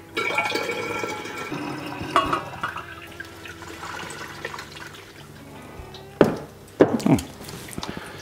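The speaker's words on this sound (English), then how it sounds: "So now we shall pitch it into the starter" Yeast being pitched into a yeast starter for an imperial stout, heard as soft liquid pouring, dripping and splashing, with a couple of sharper close splashes near the end and no talk.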